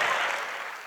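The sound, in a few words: audience applause in comedy show hall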